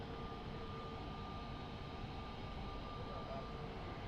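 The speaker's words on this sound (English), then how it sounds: "She's got Trent 772 engines. So Rolls-Royce, so not quite the CF6 that we're usually used to hearing" Distant airliner with Rolls-Royce Trent 772 engines at Lisbon Airport, a steady broadband jet roar holding at one low, even level for the whole stretch, with no talk over it.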